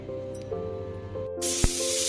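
A pressure cooker boiling potatoes lets out a sudden, loud hissing rush of steam from its whistle, following a quieter kitchen hum.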